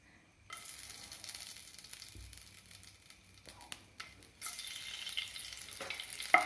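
Cloves and cardamom drop into hot oil for an egg curry, giving a steady close sizzle and frying hiss that swells again near the end, with stirring scrapes and no voices.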